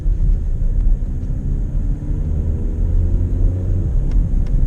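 An Audi A3 fitted with a Sprint Booster, in S2 mode at full throttle, gives a steady loud low engine rumble and drone with a rising tone, heard from inside the car with no talking.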